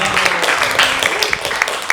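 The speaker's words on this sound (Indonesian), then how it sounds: "tepuk tangan dong" A small studio audience in a morning talk show setting claps briefly, a scattered patter of hands mixed with voices and laughter throughout.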